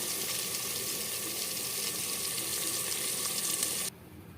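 Water poured into a pan of sautéed Chettinad mandi gives a steady, close rushing and sizzling hiss that runs unbroken for nearly four seconds, then cuts off to a quieter simmer, with no talking.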